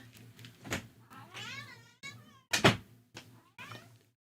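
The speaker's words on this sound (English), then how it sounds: "Yeah, it's my cat. Hold up. Let me let my cat in." A pet cat meows several times at a door, short distinct calls with a few thumps between them, fairly close indoors.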